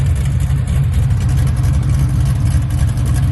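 An Oldsmobile Cutlass fitted with a new turn-down exhaust rumbles steadily with a deep, loud engine note, holding a heavy low-pitched drone close by for the whole stretch with no talk over it.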